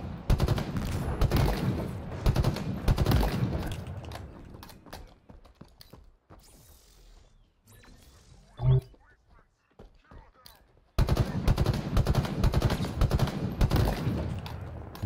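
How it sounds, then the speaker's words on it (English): Gunfire in Halo Infinite, shotgun among the weapons: bursts of rapid loud shots open the clip, then a quieter stretch with a few isolated bangs and mechanical clicks, before heavy firing resumes. "Second gun is a shotgun."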